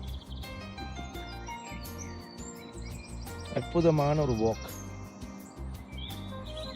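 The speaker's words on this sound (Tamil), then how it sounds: "இந்த குருவிகளுடைய இன்னிசை பாடல்கள் இருக்குது, அதுவே ஒரு மன நிம்மதியை தருகிறது." Sparrows chirp and sing along a quiet path in a small town, with bright repeated tweets scattered throughout and a louder trilling phrase midway, while someone speaks over them.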